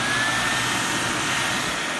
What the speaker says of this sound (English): I'm gonna turn on the vacuum alone